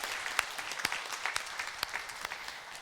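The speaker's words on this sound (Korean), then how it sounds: "여러분의 마음을 모아서 감사의 고백을 우리 박수로 하나님께 영광 드리겠습니다" A church congregation claps together after a choir's hymn during a Sunday service, a steady, moderately distant wash of applause with some individual claps standing out, with no voices over it.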